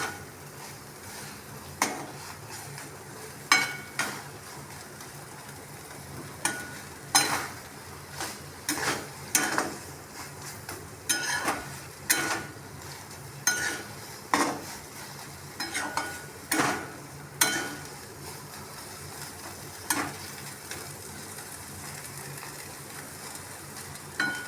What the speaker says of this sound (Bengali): এই 2 থেকে 2 মিনিট একটু এমনি নাড়াচাড়া করে করতে থাকবো রান্না।